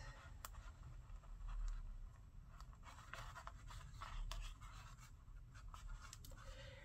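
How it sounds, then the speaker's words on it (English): Sticky tape peeled slowly from a surface during a DIY folio project, a faint, continuous crackling rasp with small ticking bursts throughout, close by and alone. "There's more than one way to peel a tape."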